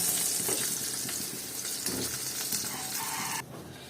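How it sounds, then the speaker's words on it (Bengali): Dried hilsa fish fries lightly in hot oil with a bright, steady sizzle and crackle that cuts off abruptly near the end. "এমনি তেলের মধ্যে জাস্ট একটু ভেজে নেব হালকাভাবে।"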